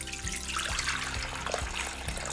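Water, 500 grams for a potato salad with eggs, pours steadily into a Thermomix bowl, a continuous close splashing rush with a low hum underneath, no talking.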